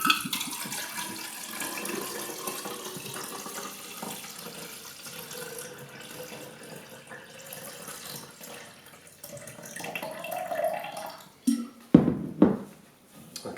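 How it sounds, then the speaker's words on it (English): Warm water, about 100 degrees Fahrenheit, poured into a beaker for C-41 film processing: a soft, steady trickling stream that swells into louder splashing gushes near the end. "I'm just going to pour 700 millilitres into this beaker here."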